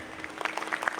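An audience claps to welcome a Daraz expert onto the stage, a steady patter of many hands across the whole second with scattered louder claps standing out near the end.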